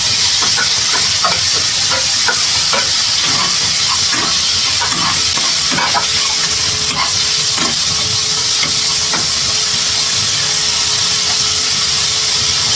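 Potatoes sizzling loudly and steadily in a hot pan after being added, with a constant hiss and scattered crackles and light stirring scrapes, no talk.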